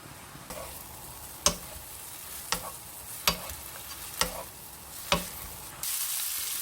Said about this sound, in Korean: 물이 팔팔 끓으면 그때 당면을 넣어서 볶으시는 거예요